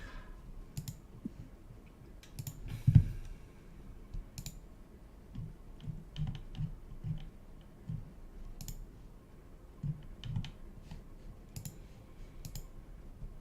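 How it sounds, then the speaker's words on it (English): Quiet typing on a computer keyboard, soft irregular key clicks in short bursts with one louder tap, close and faint with no talking. "the keyboard sounds fine"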